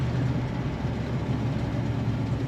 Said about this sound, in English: Great sound coming out of the back of this car.